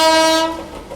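The Pune Supaul Express sounds its horn while overtaking on an Indian railway line, a loud sustained tonal blast that fades quickly into rolling rail noise.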